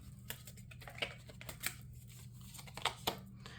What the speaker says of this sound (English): I'm going to shuffle a little bit more, and I'll grab one more from this deck